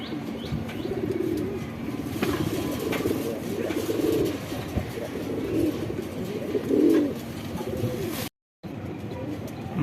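Shahjahanpuri pigeons coo in low, rolling bursts from a loft holding baby birds, repeated throaty calls over a steady background, with faint chirps and a brief wing flutter.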